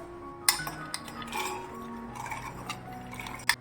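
Soaked chana dal is tipped into a mixer jar, giving light clinks and small rattling taps against the jar, with a couple of sharper knocks, close and fairly quiet.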